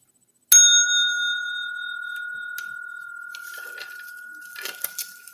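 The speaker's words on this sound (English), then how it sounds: "I got the new bell." A single clear strike on a new bell, ringing out with a long sustained tone that slowly decays and reverberates, joined by faint scattered rustles near the end.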